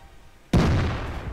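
IS-2 heavy tank's main cannon fires once in a tank game, a sudden loud boom with a rolling rumbling decay and no other sound.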